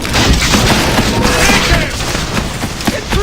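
A gunpowder barrel blows up in the pirate game Assassin's Creed IV: Black Flag, a loud booming blast that breaks into crackling, rumbling debris and scattered gunfire-like pops over about three seconds.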